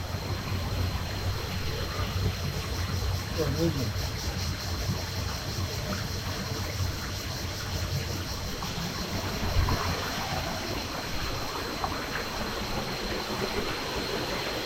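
A stream and waterfall at a Koh Samui garden rushing continuously, a loud, even wash of flowing water that never lets up.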